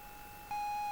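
A single steady electronic beep on a tape recording, starting partway through and holding at an even tone above faint tape hiss.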